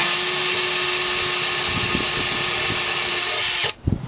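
A power drill bores into wood for mounting screws, a loud steady high whine that runs unbroken for several seconds before cutting off abruptly.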